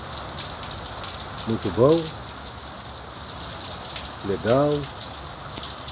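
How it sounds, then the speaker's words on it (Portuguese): Steady rain falls over a dry region, a broadband patter running through the whole stretch while a voice speaks briefly twice over it. "da chuva caindo, olha que maravilha"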